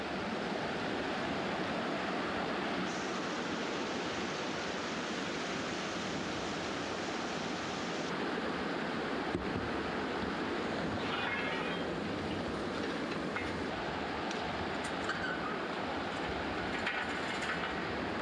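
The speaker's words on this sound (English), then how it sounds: "The roaring river." A roaring river in the Sierra Nevada mountains rushes in a dense, continuous, loud wash of water noise that stays steady throughout with no speech.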